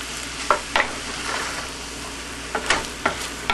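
Four-meat fried rice with soy sauce is stir-fried in a pan, a soft steady sizzle broken by several sharp scraping and tossing strokes, close by and without talking.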